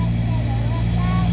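Inside a Cessna 310 twin-engine airplane in flight, a loud, steady engine drone with a deep, even hum fills the cabin without a break.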